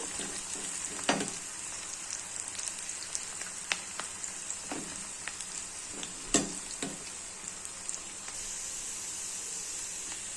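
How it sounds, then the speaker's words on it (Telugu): Long-sliced capsicum frying in a pan, a steady close hiss of sizzling oil with occasional sharp pops and light stirring scrapes, no voices. "క్యాప్సికమ్ చూడండి ఇట్లా పొడుగుగా వేయించుకోవాలండి"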